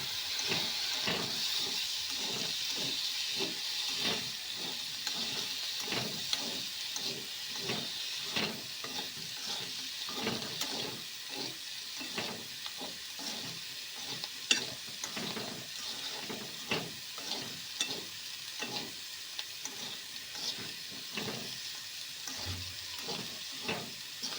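Bitter gourd and potato curry fries in a pan while being stirred, a steady close sizzle broken by repeated scraping strokes of the spoon at a regular pace.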